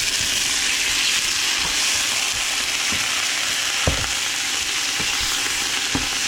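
Shrimp stir-frying with shiitake and oyster mushrooms in a hot pan, a continuous bright sizzle with a few scattered knocks and spatters spaced every second or so.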